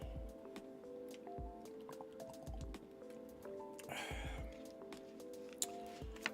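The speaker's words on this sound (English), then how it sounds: "Let me take a sip of water" A person takes a quick sip of water, a short wet slurp landing midway through, set against steady background music.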